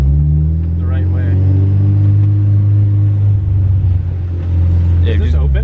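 Nissan S13 with right-hand drive on a test drive, its engine giving a loud, steady low rumble from inside the car, with faint talk over it.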